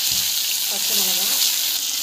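Green chillies frying in hot oil during a tempering with mustard seeds, cumin, chana dal, dried curry leaves and onion, giving a steady, close hiss and sizzle with no talking.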